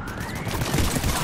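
Rapid automatic gunfire from the PC game Mass Effect 3 during a firefight, a loud, dense burst of overlapping shots rattling continuously for just over a second with no talk.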